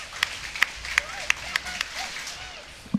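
Spectators at the 2020 Sydney Track Classic clap in a steady rhythm for a high jumper, sharp separate claps about every third of a second, thin and distant over a faint stadium murmur.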